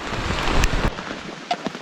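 Rain pours in a dense forest, a broad hissing wash of drops close around, with a couple of brief knocks near the end as the downpour thins.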